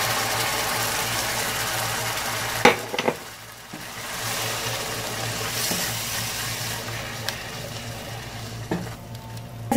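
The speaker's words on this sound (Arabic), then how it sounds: "نطبخ معجون الطماطم حتى تزول النكهه المعدنيه اللي تكون فيه" Tomato paste sizzles steadily in a pan while being stirred for pizza sauce, a soft continuous frying hiss with a few sharp spoon scrapes and knocks against the pan, no voices.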